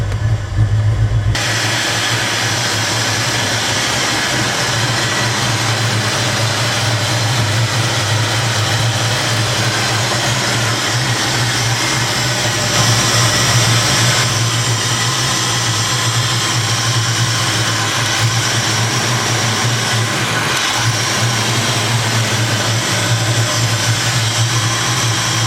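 A heavily modified car engine with an SCT Eliminator chip idles steadily and loudly up close, running several hundred RPM higher than normal with a constant low drone throughout and no talk.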